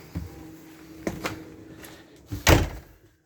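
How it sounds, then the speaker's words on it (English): Door of a 2003 Burstner Harmony T625 motorhome unlocked with a key and swung open: a few light clicks and knocks, then a louder latch clunk and door thump near the end, close by with no talking. "use the key, that will open the door"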